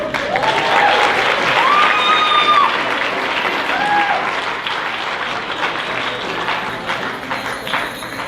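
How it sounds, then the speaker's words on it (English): Crowd applause for a men's fancy dancer at a Ute powwow, loud at first and slowly thinning, with faint whistles and cheers mixed in. "Round of applause."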